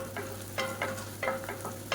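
Chopped onions and slit green chillies fry in hot oil, a soft constant sizzle broken by several crisp scraping strokes of a spoon stirring the pan, over a low steady hum; nobody talks.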